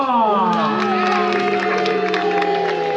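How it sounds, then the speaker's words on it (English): Spectators at a medieval tournament cheer and jeer, many voices mixed into a sustained loud roar with sustained shouts, whoops and some clapping. "by the sounds of the cheers and boos"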